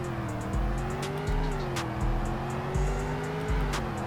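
A sedan in the Roblox game Greenville accelerates through a speed test, its engine note climbing steadily and dropping briefly at each of several gear shifts, loud and close, with no voices.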